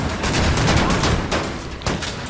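Rapid automatic fire from dual-wielded assault rifles in the Wolfenstein video game, a dense continuous burst of loud gunshots with a brief lull near the end before another shot.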